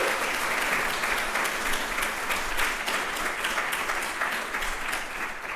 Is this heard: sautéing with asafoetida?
no